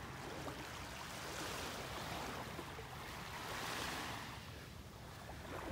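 Surf washing steadily onto a beach in North Naples, Florida during a red tide, a continuous broad wash of breaking waves with mild swells in level and a touch of wind, no voices.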